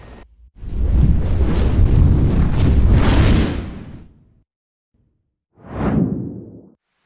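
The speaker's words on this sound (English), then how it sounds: "we're going to talk about firing the ATGMs from the Hind" A 9M114 Sturm (AT-6 Spiral) anti-tank missile launched from a Mi-24 Hind helicopter in DCS, a loud rushing whoosh lasting about four seconds, then a pause and a second, shorter rushing burst; no talk.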